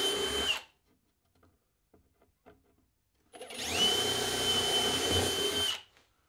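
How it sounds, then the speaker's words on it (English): A power drill driving screws into a wood block whirs loudly in two close bursts, separated by a quiet pause with faint handling clicks. "drive a couple screws in the back to hold it in place"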